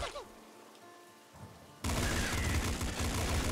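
Shotgun fire crackles in the Nuclear Throne Ultra Mod top-down shooter game, starting quietly and then bursting into a dense, loud, sustained barrage of overlapping blasts.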